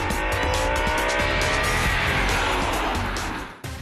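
An Audi RS performance car drives hard, with a loud, sustained engine note and rising tonal whine close by, ending in a sudden cut and a brief thump.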